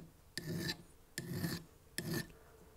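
A coarse file rasps metal off the back plate of a druzy quartz pendant in three evenly spaced, close push strokes, each a short gritty scrape with quiet gaps between.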